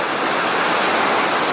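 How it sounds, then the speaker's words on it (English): Salto Grande waterfall in Torres del Paine, Chile, fed by glacier meltwater, roars loud and close as an unbroken, dense rush of falling water. "So here we are at the big jump, also called the Salto Grande, and it's amazing to see how much water comes down here."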